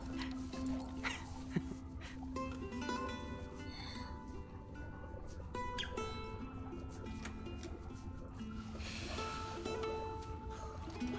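In The Last of Us Part II, a dog whimpers and barks at intervals over game music and ambient sound, with voices talking now and then.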